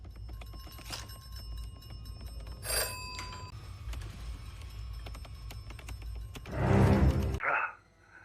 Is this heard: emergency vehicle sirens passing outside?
no